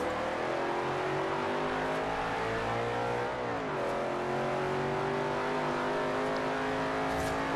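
A racing car's engine in Forza Horizon 2 drones steadily at high revs, shifting pitch briefly mid-run before holding a loud, continuous roar.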